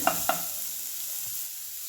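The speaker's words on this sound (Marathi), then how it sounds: "छान कांदा भाजूया" Onion frying in oil in a pan for an okra dish, a steady hiss with two quick spoon clicks at the start.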